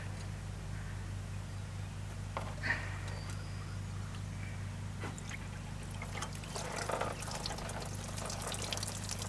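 Water drains from the radiator of a 1992 Ford 3930 4x4 Shuttle Shift tractor with a leaking radiator, trickling and pouring onto the ground in a faint, steady stream over a constant low hum, with no voices.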